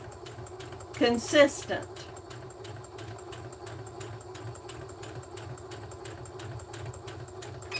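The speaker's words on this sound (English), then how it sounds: "Now I'm going to start sewing" A sewing machine stitches a lined drawstring bag seam with a fast, even mechanical whir and regular needle ticks throughout, close up, while someone speaks briefly near the start.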